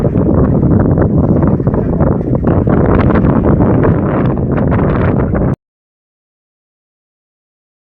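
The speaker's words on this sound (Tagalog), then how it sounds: "Hangin lang siya, malakas yung hangin, pero di gaano maalon." Strong wind at sea on a tuna fishing trip roars steadily into the microphone for several seconds, loud and buffeting, then cuts off abruptly to silence.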